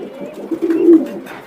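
A red chulli pigeon at a pigeon sale gives a single close, low, rolling coo that swells and fades within a second or so.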